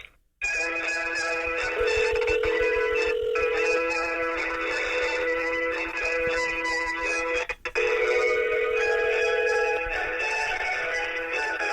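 A Verizon phone ringback tone plays while a call is placed. It is a loud, steady, melodic electronic tone pattern that repeats, with a brief dropout partway through and no talk over it.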